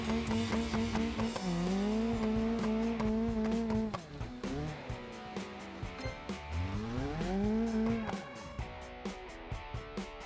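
Car driving in BeamNG.drive: a loud, sustained engine whine that rises and falls with shifts and revs, plus repeated sharp knocks and clatters of impacts and tire noise, no talking.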